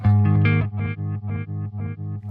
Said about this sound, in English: I've never played with a reverse echo on a pedal before, or inside of an amp sim for that matter